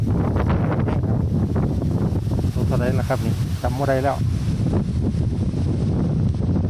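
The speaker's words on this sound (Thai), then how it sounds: "ลมหนาว" Strong cold wind buffets the microphone outdoors at a fishing spot, a steady loud roar throughout while someone talks over it.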